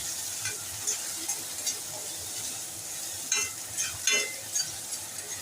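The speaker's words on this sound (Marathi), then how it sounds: "आता आपण बारीक चिरलेला एक टोमॅटो घालूया तो सुद्धा छान परतून घेऊया" Finely chopped tomato is sautéed in a pan with onion for an egg curry, giving a soft continuous sizzle broken by scattered spoon scrapes and clicks, louder toward the end.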